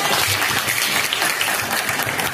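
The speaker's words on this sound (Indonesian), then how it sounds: "Bagus sekali, tepuk tangan." A classroom of students clapping together in a dense, lively burst of applause, close and continuous.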